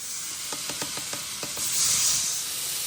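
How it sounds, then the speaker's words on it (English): Burgers sizzle on a flat-top griddle heated by propane burners underneath, a steady close frying hiss with a few light scraping ticks and a louder swell of steam near the end. "But check out that sizzle."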